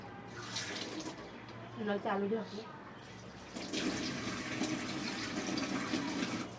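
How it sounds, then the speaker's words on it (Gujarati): Water pouring and splashing into a container in two bursts, the second longer and fuller, with a brief voice between them. "અને તેમાં ચાર કપ પાણી નાખીશું"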